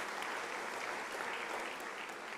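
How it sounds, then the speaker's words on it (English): Steady audience applause at an academic year opening ceremony, a continuous even wash of many hands clapping at moderate loudness with no one speaking over it. "Can I request a round of applause for them?"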